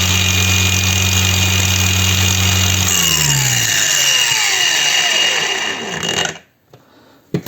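A DRIVAK AG001 cordless angle grinder runs loud and steady at its second speed with a high whine, then spins down over a few seconds, its pitch sliding lower until it falls quiet near the end.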